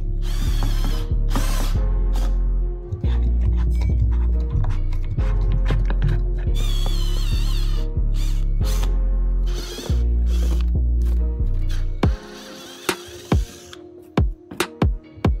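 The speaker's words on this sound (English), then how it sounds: "Let's drill a hole now." Power drill bores a hole in a plastic bottle for a bottle-array air cooler, with loud whirring bursts that stop and restart, followed by a few sharp clicks and taps at the end.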